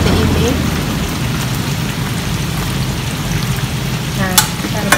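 Steady bubbling and sizzling from a pot of papaya leaves boiling with baking soda, with a utensil stirring through it continuously and a faint clink near the end.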